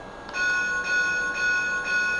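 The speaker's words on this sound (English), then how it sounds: "Kind of a cool bell." A Lionel Pennsylvania Flyer toy train set's electronic bell rings in a steady repeating pattern, about four clear strikes with sustained bright ringing tones, close and loud with no talking.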